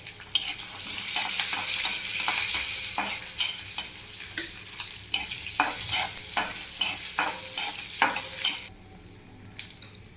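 Cumin seeds and garlic frying in hot oil for a Marathi-style fenugreek leaf bhaji, a loud steady sizzle with repeated stirring scrapes and clinks, quieting near the end.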